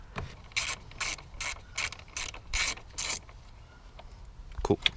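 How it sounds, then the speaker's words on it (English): A ratchet with a 10 mm socket unscrews bolts on an MK6 project car, making quick, close bursts of clicking in an irregular rhythm, followed by a few fainter clicks and a knock. "get your ratchet, and then you get your 10 mil. Most important one, right? Set it to unscrew."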